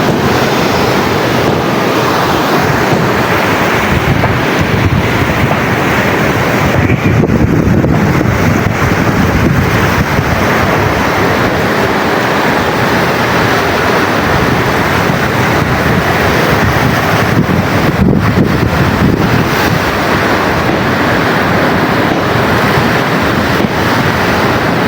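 Strong sea waves and gusting wind from Typhoon Crising roar continuously and loudly beside boats, with heavy wind buffeting the microphone throughout and no voices.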